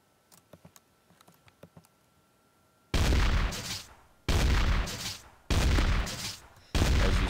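Gunfire from SDK's Gun Mod in Minecraft Beta 1.6.6: four loud, evenly spaced blasts, each with a short decaying tail, following a stretch of quiet keyboard clicks.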